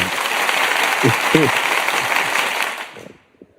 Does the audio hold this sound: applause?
yes